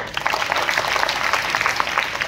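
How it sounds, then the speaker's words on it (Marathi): A room of schoolchildren and teachers at a foundational literacy and numeracy day event bursts into steady, dense applause, many hands clapping together for a couple of seconds with no talk over it. "याच्यासाठी टाळ्या वाजवा."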